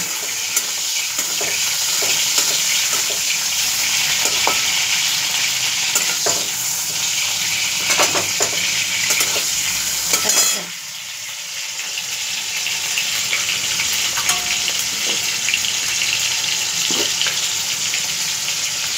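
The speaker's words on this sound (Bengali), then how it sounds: "হালকা করে নাড়বো, টমেটোটা একটু গলে যাবে" Tomatoes fry in a pan with a steady, loud sizzle throughout, broken by scraping stirs and clinks from a utensil, with a brief drop in level midway before the frying resumes.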